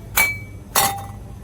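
Two bright clinks of real glass dishware being tapped together in a store aisle, spaced about half a second apart, each ringing briefly with no talking.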